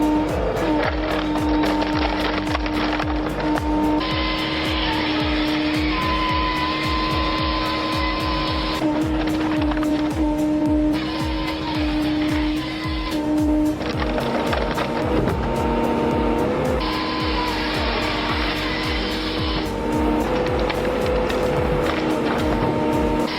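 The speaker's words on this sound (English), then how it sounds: "the machine easily cuts and splits the logs into 18 pieces" A Rajamäki firewood processor cutting and splitting logs, a loud continuous engine and hydraulic drone with repeated mechanical clunks and rhythmic knocking, steady and close throughout.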